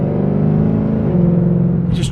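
A Ford Mustang Shelby GT500 with a 5.2 engine gives a loud, sustained engine drone that swells slightly mid-way, then a brief higher burst near the end, with no speech over it.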